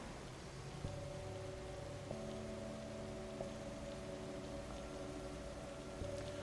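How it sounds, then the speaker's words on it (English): Steady rain falling in Assassin's Creed Shadows, a soft, even hiss of drops with faint low tones underneath, continuous and quiet throughout. "We're just gonna meditate in the rain now."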